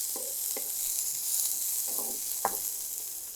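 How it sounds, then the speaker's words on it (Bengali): About half a cup of onions sizzles in a pan while being fried for chicken curry, a soft steady hiss broken by a few light clinks and stirring scrapes. "কিছুটা পেঁয়াজ ভেজে নেব, এখানে আধা কাপের মতন হবে পেঁয়াজ।"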